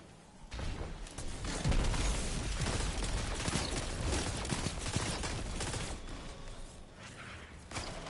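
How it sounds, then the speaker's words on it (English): Machine gun fire in the video game Destiny rattles on as a dense, continuous barrage of shots with crashing impacts, fairly loud throughout and easing off toward the end. "This guy got a machine gun."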